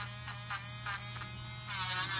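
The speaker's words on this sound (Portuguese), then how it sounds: "usando essa broquinha aqui, pode também. Vou lixar um pouquinho com ela pra vocês poderem ver." An electric nail drill with a small sanding bit buffs a fiberglass gel nail at medium speed, giving short, soft buzzing bursts over a constant low electrical hum, close and fairly quiet.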